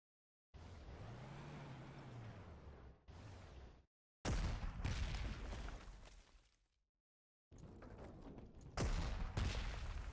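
Artillery fire in the Panzer Corps 2 strategy game, set at Sevastopol: heavy booming blasts arrive in separate loud bursts, each followed by a rumbling tail, with brief silences between volleys.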